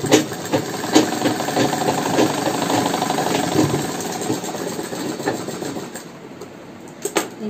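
A sewing machine stitches a latkan-style blouse, running steadily and fairly loud with a continuous mechanical whirr and small knocks, slowing near the end.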